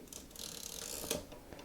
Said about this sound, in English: every time we take an image, which we've just done, we have to advance the film,